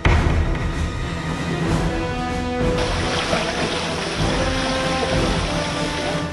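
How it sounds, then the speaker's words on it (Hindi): Fast-flowing, waist-deep floodwater rushes through a street in Golaghat, Assam, a dense continuous roar and splash, loud and close, with a sharper surge of churning water partway through. "पानी का बहाव इतना तेज है"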